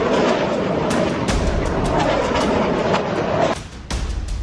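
Gunfire crackles in sharp bursts over a dense, continuous rumble of artillery on the Thailand–Cambodia border war front, loud and relentless, with the din briefly thinning near the end.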